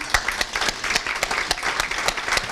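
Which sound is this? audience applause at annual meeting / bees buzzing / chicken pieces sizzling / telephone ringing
audience applause at annual meeting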